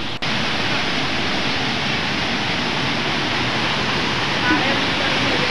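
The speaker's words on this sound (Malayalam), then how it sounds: "അവിടെ വെള്ളം ചാടുന്നുണ്ട്" A waterfall on Ananganmala hill roars in a loud, unbroken rush of falling water that fills the whole scene evenly from start to finish.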